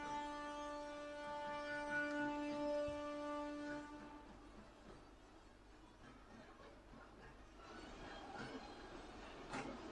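The Gandhinagar–Varanasi passenger train rolls along the track in a steady low rumble, starting with a sustained horn-like tone before settling into a fainter clatter of wheels, with no talk over it.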